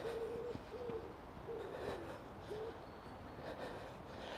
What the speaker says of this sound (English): the birds are sounding very musical